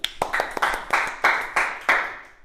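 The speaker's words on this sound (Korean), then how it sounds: "정답! 라비 박수!" A few people in a classroom clap for a student in a quick burst of separate, close claps, loud and uneven, without any talk.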